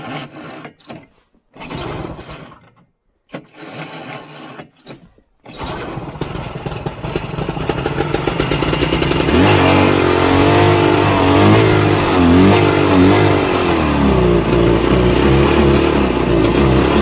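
A 1970 Ski-Doo Olympique 399cc two-stroke snowmobile engine, with a Tillotson HR76A carburetor, sputters through several short, failing bursts, then catches and runs loudly, climbing into sustained revving with rising and falling pitch close by.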